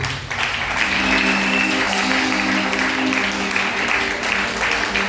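A church congregation applauds for Jesus in a steady, dense wash of clapping that holds for the whole stretch, with a sustained musical tone running beneath it.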